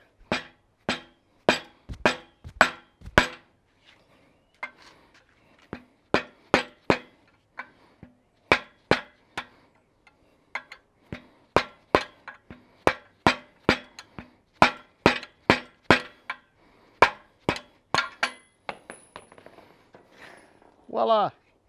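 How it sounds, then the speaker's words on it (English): A suspension bush is hammered out of its bore without a press: a long run of sharp, ringing metal blows, loud and close, coming in quick bursts with short pauses between them, and a brief voice right at the end. "Probably easy to whack this through this way."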